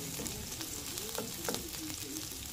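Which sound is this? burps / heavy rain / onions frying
onions frying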